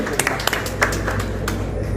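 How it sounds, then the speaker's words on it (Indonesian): Applause from the audience at a film press conference for a Kalimantan urban-legend horror film, a steady wash of clapping with a few sharp individual claps, over a low hum. "berikutnya boleh tepuk tangan"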